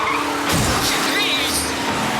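A car brakes hard and skids in a 1996 action film, a harsh, loud tire screech and rushing road noise that fill the whole moment, with voices shouting over it.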